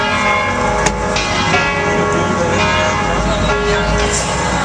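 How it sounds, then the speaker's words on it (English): Church bells ring from the outside of a church in Liverpool, a sustained wash of overlapping tones heard steadily over busy outdoor ambience, with a few brighter strikes standing out. "See the bells ringing now."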